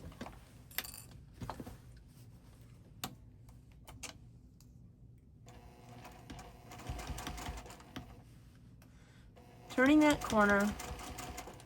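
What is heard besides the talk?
sewing machine stitching quilt binding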